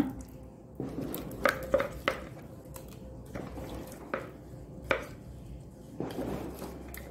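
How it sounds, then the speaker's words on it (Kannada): Freshly ground batter for Kerala unniappam being scraped and transferred into a dry vessel, with soft wet squishing and several distinct clinks and taps of utensil against pot, close and fairly quiet. "ಈಗ ಇದನ್ನೊಂದು ಒಳ್ಳೆ ಡ್ರೈ ಆದ ಪಾತ್ರೆಗೆ ಶಿಫ್ಟ್ ಮಾಡ್ಕೊಳ್ಳೋಣ."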